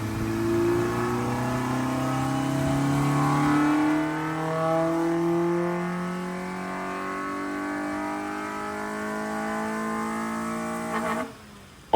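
Honda Civic VTi with a rebuilt D16Y8 engine on a dyno during a ram air run, revving hard through rising gear sweeps, loud and close, the pitch climbing steadily before it cuts off abruptly near the end.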